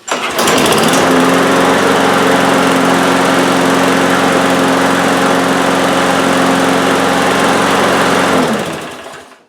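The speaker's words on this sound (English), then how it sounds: "I'm going to go mow grass for a few minutes, just make sure it's running well and fine" A lawn mower engine after carburetor bowl and jet cleaning starts up and runs steadily at a loud, even pitch for several seconds, then cuts off near the end, with no talking.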